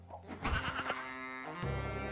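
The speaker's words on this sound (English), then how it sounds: "Sheep." Sheep bleat in the video game Genesis Noir, a short close harmonic bleat that swells and holds, then a second lower call starts near the end, clear and alone.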